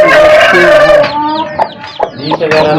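A caged hen clucks repeatedly up close, with soft peeping calls from chicks mixed in between her low, rhythmic clucks.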